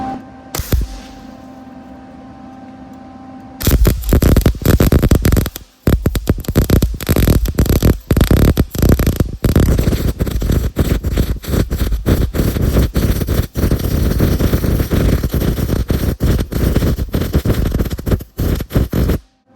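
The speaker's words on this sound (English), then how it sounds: "So, yeah, let's weld." Arc welding a bead onto a mild steel bushing for an Allis Chalmers All Crop 60 combine: after a few seconds of quiet hum, a loud, continuous crackling, sputtering buzz starts and runs steadily to the end, with brief breaks.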